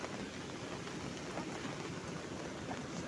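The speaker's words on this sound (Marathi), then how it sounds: "पाऊस काही कमी व्हायचं नावच नाही घेत." Heavy monsoon rain falls on a Konkan village as a soft, continuous hiss, fairly faint and even, with no talking.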